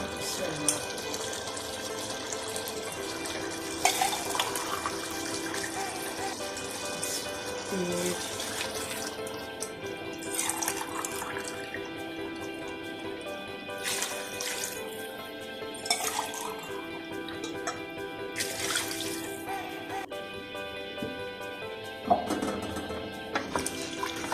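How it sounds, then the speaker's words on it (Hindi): Glasses of water are poured into a cooking pot for mutton pulao in a home kitchen, with several splashing pours in separate bursts and softer trickling between them, and someone speaks faintly at times. "और मैं 3 गिलास पानी डाल रही हूँ।"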